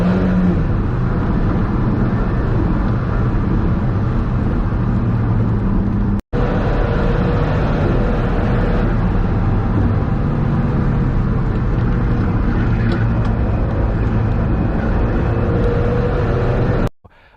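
An Alfa Romeo 4C races a Lamborghini, giving a steady, loud, droning engine roar on a track straightaway that holds for a long stretch with a brief cut midway, then ends abruptly; no talk.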